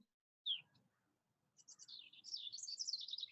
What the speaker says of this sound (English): Oh my gosh, I love that bird.